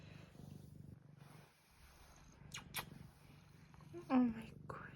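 A pet cat purrs in a low, soft rumbling pulse close up, faint and steady through the first stretch, then a voice and a sharp rustle break in.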